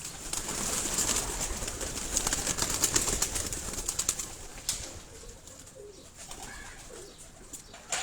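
Pigeons coo on a Karachi rooftop among caged birds, with soft throaty calls under steady outdoor hiss, a few bursts of wing flapping and faint chirps, moderately distant and without speech.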